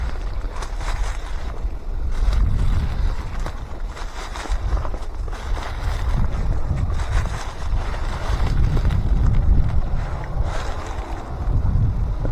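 Wind blows steadily through hunting woods outdoors, buffeting the microphone in loud low gusts that rise and fall for the whole stretch, with no one speaking.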